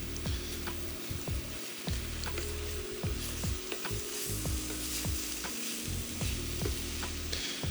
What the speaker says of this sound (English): is just the nice, calm stirring